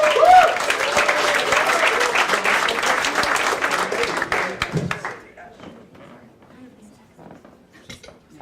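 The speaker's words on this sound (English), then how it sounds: "Start clapping, Mr. Bill Hartwell." Comedy club crowd in New York applauding a comedian, loud dense clapping for about five seconds before fading to a quiet room with scattered sounds.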